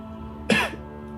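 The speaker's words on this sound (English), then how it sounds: "Cough." A single short cough, near and fairly loud, over a quiet steady background hum.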